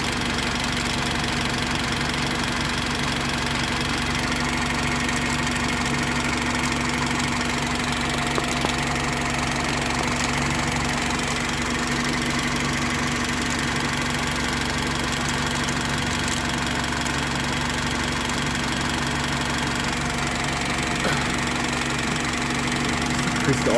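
Honda Civic 1.7 VTEC engine idling steadily with the solenoid energized, a continuous close mechanical hum and tick under the hood that holds constant with no clear rise in revs.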